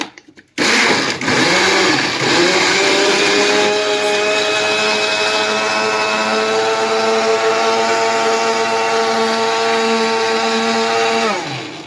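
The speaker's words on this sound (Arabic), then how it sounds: "هنضرب كل ده في الخلاط، اللبن مع العجوزه مع الفلفل مع الشطه" A blender whirs loudly and steadily for about eleven seconds after a brief start, mixing milk, aged cheese and peppers, its motor holding a constant high-pitched drone, with no talking.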